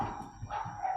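Puppies bark a few times in short yips close by, over a low background rumble, with no talking.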